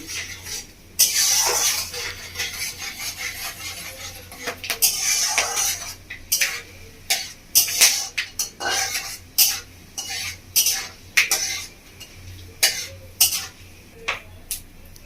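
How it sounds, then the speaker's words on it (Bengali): Cumin and a couple of dried red chillies fry in oil as a tempering for village-style chicken kosha, with a soft sizzle under frequent loud clinks and scrapes of a metal spoon against the pan. "খুব ভালো করে ফোড়নটা ভেজে নেবো।"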